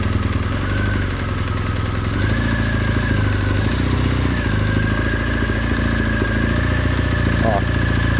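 A big adventure motorcycle engine idling steadily through a slow, tight turn at full handlebar lock, a close, constant low rumble with slight rises, no talking.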